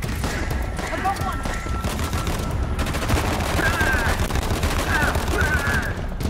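Sustained gunfire from the video game Uncharted: The Lost Legacy, a dense loud barrage of rapid shots rattling without pause against a busy game-ambience background.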